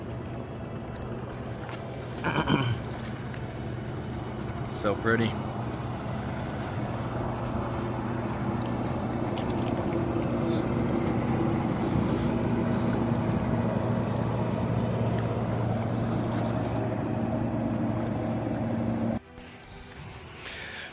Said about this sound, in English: Now we've got this boat coming up.